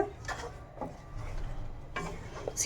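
A spoon stirs a raagi pudding mixture with cardamom powder and melted jaggery in a pot, giving a few soft scraping strokes against the vessel, quiet and close with gaps between them.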